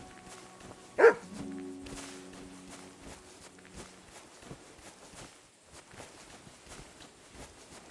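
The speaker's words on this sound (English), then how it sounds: "Barking. It's coming from over there." A dog in the medieval video game Kingdom Come Deliverance II gives one sharp, fairly loud bark, followed by a brief ringing tail and then quiet footsteps and soft ambient movement.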